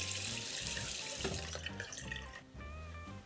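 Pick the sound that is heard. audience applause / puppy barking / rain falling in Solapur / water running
water running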